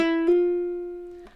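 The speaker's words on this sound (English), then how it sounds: "in the first two notes there's a hammer on." A single plucked ukulele note rings, then a second note sounds smoothly by a hammer-on without a new pluck, sustaining and fading quietly before a faint touch at the end.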